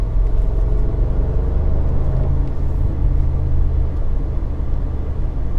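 A 2021 Mercedes G550 in sport mode gives a steady, loud low engine rumble with road noise. The drone holds even and continuous with no clear rise in revs, and no talk is heard.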